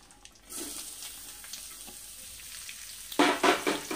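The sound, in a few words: onions frying in a pan with nigella seeds and bay leaf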